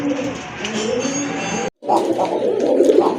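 Rajgolla pigeons, bright red birds, coo in low, rounded repeated calls close by, broken by a brief dropout before the cooing resumes.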